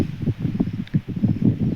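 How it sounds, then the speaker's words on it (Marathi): Strong wind sweeping across a soybean field, a dense rumbling buffet of gusts pressing against the microphone with rustling bursts throughout. "आज शेतामध्ये आलो पण वारं खूपच आहे"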